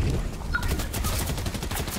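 Rapid gunfire from a video game firefight, a dense continuous burst of shots filling the whole stretch at steady loudness with no talk over it.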